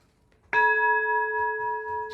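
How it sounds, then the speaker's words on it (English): A single meditation bell is struck once, ringing out clearly with a sharp attack and a long, steady, sustaining tone that fills the quiet room and holds for well over a second, with faint low room noise beneath. "The bell calls us here."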